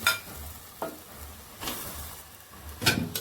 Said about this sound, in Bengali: কষানো হয়ে গেছে এবার আমি মাংসের সাথেই কষাই